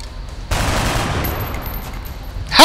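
Gunfire in the video game XCOM: Enemy Unknown: a sudden loud burst of shots opens a sustained noisy stretch, and another sharp burst hits at the very end.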